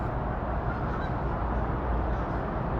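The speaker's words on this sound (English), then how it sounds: "You hear the geese?" Geese honking outdoors in a city setting among buildings, faint and fairly distant, mixed into a dense bed of low ambient rumble with no talk over it.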